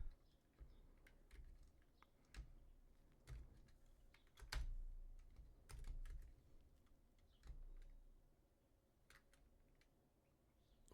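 Bursts of keys tapped on a computer keyboard, quiet and close, with short pauses between runs of rapid clicks and no one speaking.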